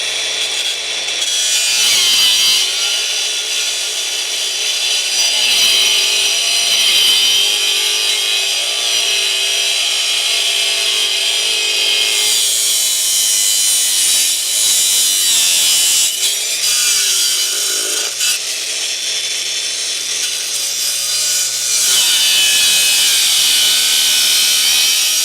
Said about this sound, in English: let's work our way through this with an angle grinder